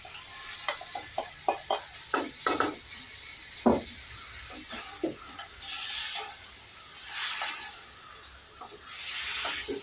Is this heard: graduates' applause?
no